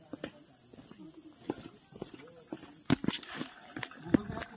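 A ridden horse's hooves clop along a path in Matheran, a series of irregular, fairly close knocks that grow busier toward the end, with quiet background voices.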